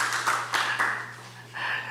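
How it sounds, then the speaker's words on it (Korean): A church congregation claps in welcome during a Sunday worship service, a few bursts of hand clapping over a steady low hum, moderately close and without voices. "인사하실 때 사랑과 축복의 박수로 화답해 주시기 바랍니다"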